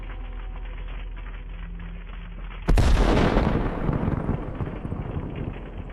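Explosion from a HIMARS precision strike on a Russian howitzer: a sudden loud blast after steady background rumble, followed by several seconds of rolling, crackling roar that slowly fades.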